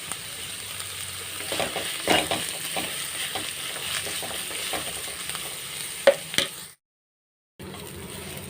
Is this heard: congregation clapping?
no